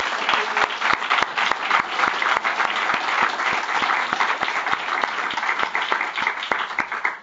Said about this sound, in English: Can we give our debaters one more round of applause,